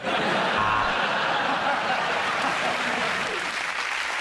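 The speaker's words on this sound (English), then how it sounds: "And the crowd are giving him a standing ovation" A television studio audience gives a standing ovation, loud sustained applause with scattered chuckles, steady throughout.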